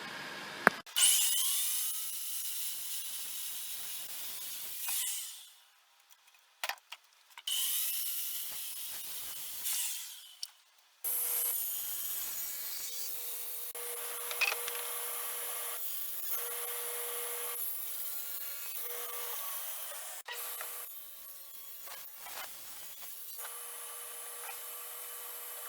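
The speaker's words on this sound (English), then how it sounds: "So I put a 1/2-inch dado stack in there, and I'm using my tall fence since this one rail is pretty tall." Table saw fitted with a half-inch dado stack cutting a tall wooden rail against a tall fence, a harsh high whining hiss that starts and stops in several passes with brief quiet gaps, close and without speech.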